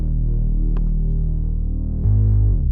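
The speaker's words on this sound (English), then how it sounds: "Here I've got a bass, a simple bass. I just made the bass wide, added some distortion," A wide, distorted synth bass made in FL Studio with EQ applied, playing loud, thick sustained notes that throb steadily before shifting pitch near the end, with no voices.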